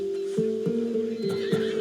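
A Macedonian warhorse in Assassin's Creed Odyssey whinnies loudly and close, a strong tonal neigh with wavering pitch that repeats in several pulses over the full length, with no talk.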